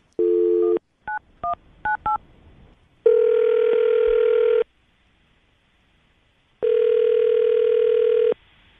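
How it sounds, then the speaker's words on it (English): A steady phone dial tone, then a quick series of keypad beeps, followed by two long ringing tones with silence between. "I'm going to call him right now, see if we can get him on the phone"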